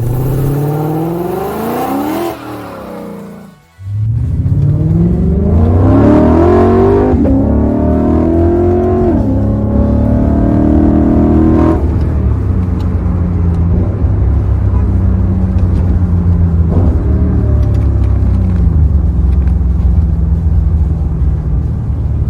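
A Lexus IS F sedan accelerates hard, its loud engine revving through rising sweeps and shifting gears with a sustained close roar after a brief dip early on.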